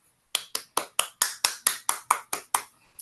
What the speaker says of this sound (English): Another round of virtual applause.